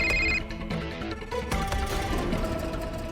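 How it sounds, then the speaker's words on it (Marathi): A telephone bell rings in short bursts at first, then fades under a busy indoor background of clatter and music-like tones. "आधी तो फोन उचला, वाजून वाजून डोक्यात जातोय माझ्या."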